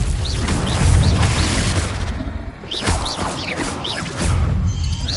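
Confringo fire spell blasts in a Harry Potter video game, loud repeated booming explosions layered with bright magical whooshes and chimes, dense and continuous with a brief lull midway.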